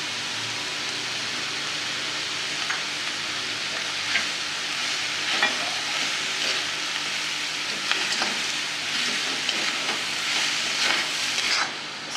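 Jaggery and dry fruits sizzle in a hot pan as modak filling is fried. A steady frying hiss runs throughout, with occasional soft scrapes of stirring, near and clear with no talk.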